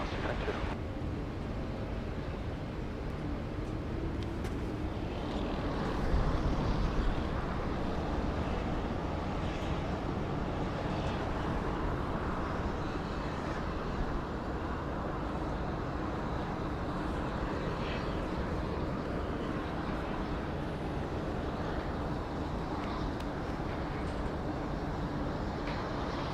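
An airliner takes off from runway 34 left at Sydney Airport, its engines producing a broad, sustained roar that swells slightly and holds steady for nearly half a minute.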